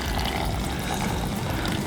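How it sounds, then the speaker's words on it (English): Old fluid drains out through the drain plug of a Nissan 240SX during a coilover install, a steady low rushing and pouring that runs continuously, close and fairly loud, with no talk. "Just drain this out and then we'll add the fluid."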